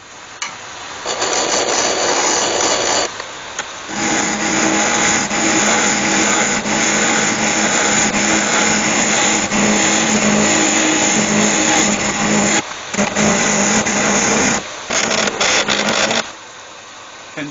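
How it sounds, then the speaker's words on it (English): A loud, steady grinding whir of a wood lathe with a cutter hollowing an oak urn, running continuously with a few brief dips in level. "Kendall's was just showing you how well my new cutter works in there."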